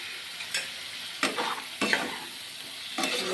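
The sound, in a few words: spice paste being fried and stirred in a pan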